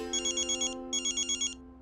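A phone ringtone sounds for an incoming call on a mother's phone, two bursts of bright, rapid chiming tones separated by a short pause over a low steady background.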